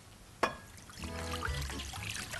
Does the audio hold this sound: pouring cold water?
yes